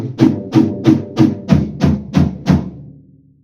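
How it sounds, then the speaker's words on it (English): An acoustic drum fill moving down the kit, snare then two toms then floor tom, eight evenly spaced strong hits that drop in pitch, ending with a short ringing decay. "4 hits per drum. So we've got snare, tom, tom, floor."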